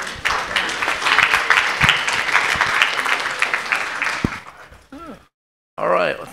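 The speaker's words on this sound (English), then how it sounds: "Let's give a round of applause to Dr." An audience applauds a speaker at a medical meeting on brain engraftment and transplant: loud, dense clapping for about four seconds fades out, followed by a brief pause and then a voice.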